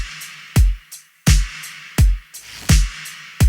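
Synthwave drum pattern with punchy kicks and bright snare hits in a steady groove, played dry and close, with no voices.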